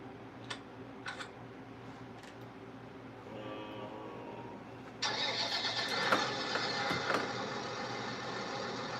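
A tractor engine cranks and catches at about five seconds, then settles into a loud, steady running rumble, preceded by a few faint ticks and clicks.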